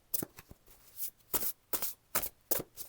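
A deck of oracle cards shuffled by hand in several quick riffles and taps, soft and close in a quiet room with no voices.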